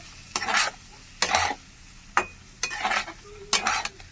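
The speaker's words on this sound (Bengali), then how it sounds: "একটু কষিয়ে তারপরে আমি জল দেব" A curry base for hilsa fish with turmeric and salt sautéing in a pan, with five distinct bursts of spoon scraping and stirring over a light background sizzle, close and without talking.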